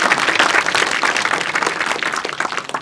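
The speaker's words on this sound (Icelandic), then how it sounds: "Gefum minni bara eftir gott klapp." An audience at a forestry conference applauds a speaker, with dense hand clapping sustained for a few seconds that gradually softens.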